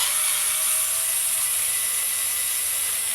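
An electric screwdriver whirs steadily and loudly throughout, backing out the wheel screws on a Traxxas Slash RC car.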